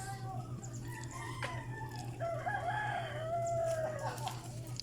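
A rooster crows clearly at mid-distance in San Fernando, with a second crow joining, over a steady low hum and faint background clucking.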